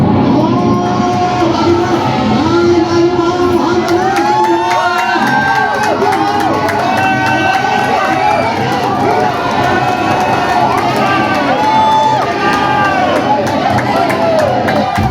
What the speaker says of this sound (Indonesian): lalu sorak-sorai, tawa, dan tepuk tangan meledak di mana-mana.